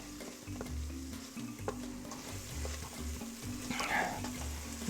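Onions and sausage saute in an Instant Pot, a steady soft sizzle with occasional stirring scrapes and light clicks of a utensil against the pot, close and continuous.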